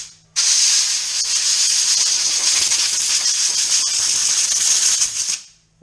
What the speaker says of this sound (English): you blow the grease out of everywhere and then it doesn't look clean anymore